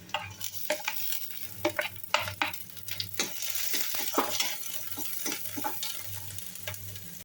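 Finely chopped onions and green chillies fry in a pan under an even hiss. A spoon stirs and scrapes at a busy, irregular rhythm.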